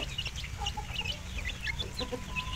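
Free-range village chickens clucking on a farm, several birds chattering in quick irregular calls over a constant low background rumble.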